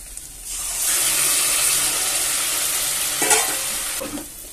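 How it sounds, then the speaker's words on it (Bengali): Boiled jute leaves go into a spiced onion paste frying in oil, giving a close, steady sizzle with stirring and scraping that swells after the first second and fades near the end, with no talk. "এবার আমি দিয়ে দিচ্ছি সিদ্ধ করে রাখা পাট শাক।"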